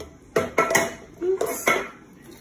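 A spoon stirs red pea soup with coconut milk and potatoes in a pot, giving four or five close, clattering scrapes and knocks against the metal in an uneven rhythm, with no talking.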